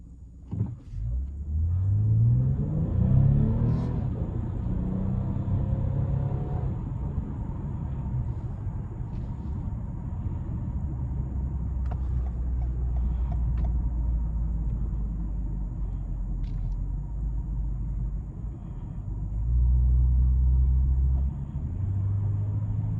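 A 2024 Toyota Camry XSE V6 accelerates from inside the cabin, its engine note climbing in pitch at the start and then holding a steady low rumble with road noise, swelling again near the end.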